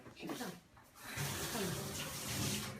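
A plastic tracheostomy cannula part is rinsed under running tap water, a steady splashing flow that swells after the first second, with a voice speaking over it.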